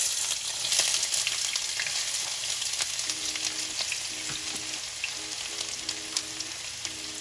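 Celery fries in a pan for pineapple chicken, a steady close sizzle and crackle with faint scraping from stirring running throughout.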